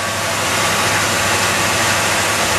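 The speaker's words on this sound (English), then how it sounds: "So that's the engine running" A 1968 Buick Electra convertible engine runs steadily at a raised idle with the automatic choke on, giving a loud, continuous broadband roar with a low rumble beneath and no break across the whole stretch.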